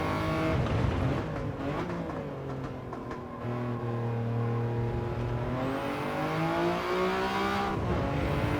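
A Toyota GR Yaris racing around Tsukuba in Gran Turismo 7, its engine revving up and down through gear changes with rising and falling pitch, steady and fairly close throughout.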